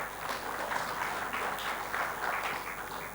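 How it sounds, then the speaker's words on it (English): Warm audience applause at a technology conference, a steady dense wash of many hands clapping together, moderately loud and unbroken throughout with no voices on top. "a round of warm applause for Vanitha, please"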